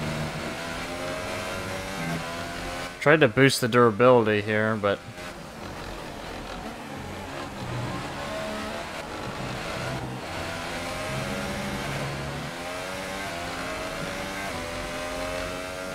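Engine of a Williams Formula 1 car racing at the British Grand Prix in the F1 2018 video game, with wing and aero damage and a poor engine, droning steadily through the clip, with a brief loud revving burst early on and someone talking over it throughout.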